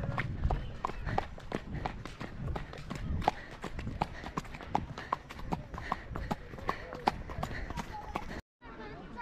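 A young boy sitting on horseback imitates a horse with quick, evenly spaced clip-clop clicks that run steadily and close up for several seconds, then break off abruptly near the end.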